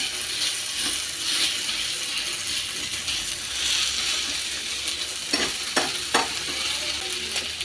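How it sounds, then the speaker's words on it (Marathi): Eggplant sautés on a flat iron griddle (tava) while being stirred until soft for baingan bharta, giving a steady close sizzle with scraping and clicking spatula strokes near the end. "आणि वांगी पण अशी नरम होईपर्यंत मस्त परतून घ्यायचे."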